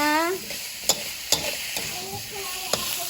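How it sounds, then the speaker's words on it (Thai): Eggplant stir-frying in a pan, a soft sizzle punctuated by four or five sharp clacks of a utensil against the pan at uneven intervals, close up, with a brief vocal sound at the start. "แล้วก็ผัดมะเขือก่อนนะคะ"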